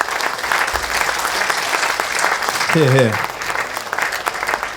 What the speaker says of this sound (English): So I think another round of applause for everybody who's been nominated so far.